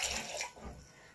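A cup of water is poured into an electric mixer jar holding cut cantaloupe pieces for juice, heard as a short, close splashing gush that fades after about a second.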